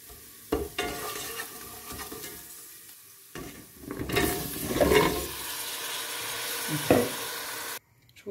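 Potatoes tipped into a large pot for a creamy potato soup with stock cube, then stirred; clattering drops, a swell of sizzling and scraping, bursts of stirring, ending abruptly.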